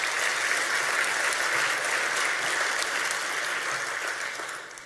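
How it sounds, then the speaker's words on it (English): Audience applause at a natural resources forum, a dense even patter of clapping from a large room that fades slightly at the end. "Round of applause for them."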